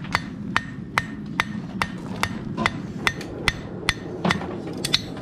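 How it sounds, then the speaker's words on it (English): Hammer corner drawing out a clip on a horseshoe at the anvil: about a dozen sharp, ringing metal strikes in a steady rhythm, close and clear, with no talking. "use the corner of the hammer to forge out my clip"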